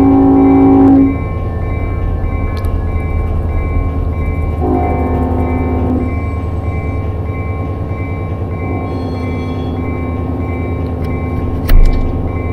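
Trains meet at a station in the Run8 V2 train simulator game: a loud, steady diesel locomotive rumble runs throughout, with a sustained horn tone sounding at the start and again midway, plus a brief clank near the end.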